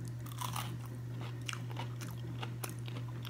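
Someone bites and chews air-fried avocado dipped in sweet chili sauce, with soft crunches and wet chewing sounds close to the mic over a steady low hum, and no talking.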